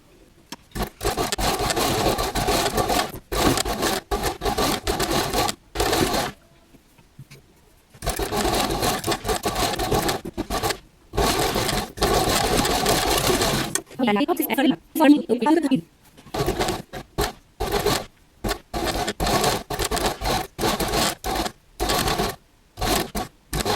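A sewing machine stitches fabric for a girl's party gown in loud, rapid bursts broken by short and long pauses.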